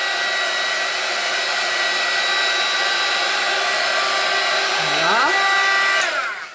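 Hair dryer blowing steadily and loudly at close range to dry fresh ink on a card, its whine holding constant for several seconds, then shifting pitch as it is switched off near the end.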